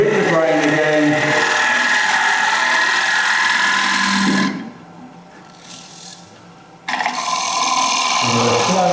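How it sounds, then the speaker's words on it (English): A bowl gouge cutting wood on a lathe gives a loud, steady scraping hum that drops away for a couple of seconds in the middle before resuming, close up. "So I've just gone to the other bowl gouge to get on the bevel, and now I'm just going to go on that one."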